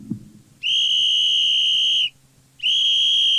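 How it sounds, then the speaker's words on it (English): A train conductor's whistle gives two long, piercing, steady blasts, the first held for well over a second, then a brief gap before the second begins, loud and alone. "Suddenly, there was a piercing sound, the sound of the conductor's whistle."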